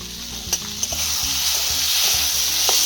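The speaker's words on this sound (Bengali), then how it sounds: "এইভাবেই ভেজে নিতে হবে" Bitter gourd (karela) frying in a pan, a loud, close, steady sizzle with a few sharp spatula knocks and scrapes at the start, no voices.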